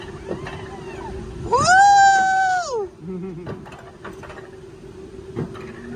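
A cat lets out a single drawn-out meow lasting over a second, fairly close and clear, with a steady background hum and faint clicks and small noises around it.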